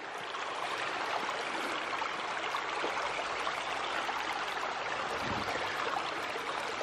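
A small creek near stone stairs and a waterfall flows in a steady, broadband rush and gurgle, continuous and fairly close throughout with no talking.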